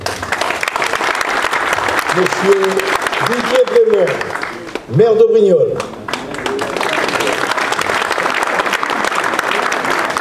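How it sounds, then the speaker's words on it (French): An audience at a general assembly of the Var's mayors applauds newly elected mayors with steady, continuous clapping. Midway through, a voice announces a name over the applause before the clapping swells again. "Bon, on peut l'applaudir."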